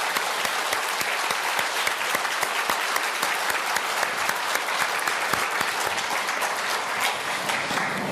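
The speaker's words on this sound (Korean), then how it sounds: "우리 그런 면에서 우리 하나님께 한번 영광의 박수 한번 돌려보낼까요?" A church congregation applauds in a dense, steady round of clapping at a year-end worship service, sharp individual claps standing out throughout the full eight seconds with no talk over it.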